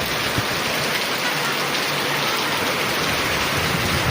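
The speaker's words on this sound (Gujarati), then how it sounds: "પણ વરસાદ જોરદાર છે ઘડીકમાં" Heavy rain pours down in a steady, dense roar with no breaks, loud and close, heard from a rooftop.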